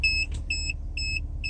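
Parking sensor on a BMW 1 Series (E81/E87 era) beeping while the car is in reverse: a series of short, evenly spaced electronic beeps, loud and close, over a low steady engine and cabin rumble.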